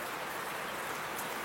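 Rain falling in a village with banana trees nearby, a steady, soft, faint hiss that stays even throughout with no voices.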